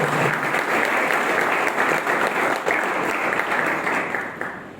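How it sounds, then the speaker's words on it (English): A round of applause from an audience of visitors touring a shipping academy, honoring the women and young people attending; steady dense clapping throughout, fairly loud and close, fading slightly at the end. "let's give a round of applause for these women, for this young youth who have come here and shown interest"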